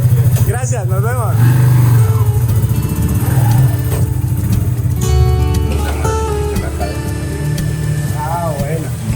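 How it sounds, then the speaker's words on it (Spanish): A Kawasaki KLR motorcycle engine idles with a steady low throb close by, while people talk and laugh over it outdoors. "Ahora sí parece moto."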